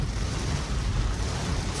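Flood water splashing and rushing against a Tesla driving through deep water on autopilot, a dense, steady roaring wash of broadband noise close to the microphone with no talking.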